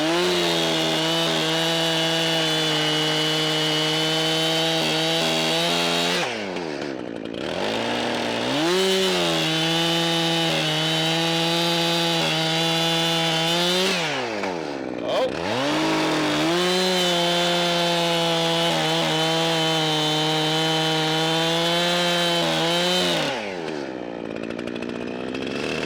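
A chainsaw in need of a carburetor adjustment cuts firewood with a loud, close, continuous whine, and its pitch dips and recovers three times as it bogs under load.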